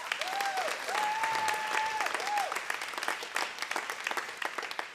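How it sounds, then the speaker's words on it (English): A church audience applauds at a live event, a dense wash of clapping that carries steadily throughout with a few brief tonal notes sounding early on. "Clap it up for North Village."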